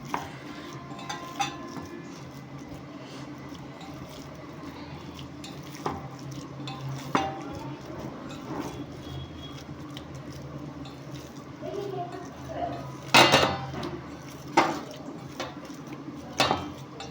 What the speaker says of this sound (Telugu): దీన్ని బాగా మిక్స్ చేసుకుందాం